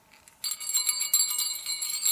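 A small red bell on a length of craft rope jingles brightly for about two seconds, a close, sustained metallic shimmer with a quick second shake midway and no voices.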